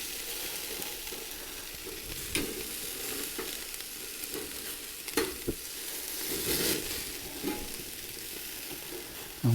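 Sausages and burgers sizzle and spit in a frying pan during a British-style cook-up, a steady close crackle with occasional louder pops and scrapes, and no talking.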